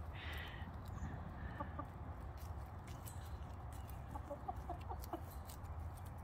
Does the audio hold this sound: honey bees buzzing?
no